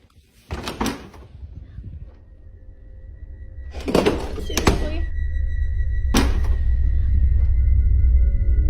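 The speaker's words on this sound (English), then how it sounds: "something was banging on the door, and it only stopped after Sammy opened the door" Loud, sharp bangs on a door inside a home, coming in separated bursts of rapid knocks with a steady low hum underneath, and a short spoken exclamation between them.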